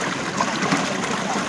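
Water flowing at a small waterfall: a steady, broadband rush of falling water, fairly loud and unbroken, with no voices.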